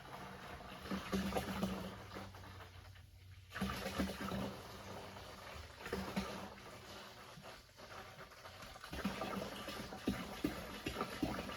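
A fluid pump transfers antifreeze liquid ballast into a tractor tire, giving a steady churning, gurgling wash of liquid that runs continuously at close range with brief dips in level, no voices over it.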